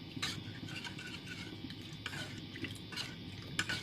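Cornstarch being stirred into water in a bowl to dissolve it, for a Thai blackberry jam, with soft scraping and light clinks of a spoon repeating close by, no talk.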